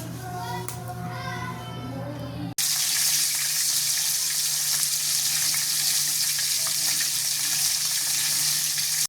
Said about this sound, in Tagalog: Sa kumukulong kamatis, sibuyas at mga pampalasa, ilalagay ko na ang sitaw, okra at kalabasa.